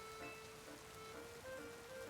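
Rain in the Pokemon Legends Z-A video game falls as a faint, steady patter with soft hiss, plus a few quiet tonal game sounds over it.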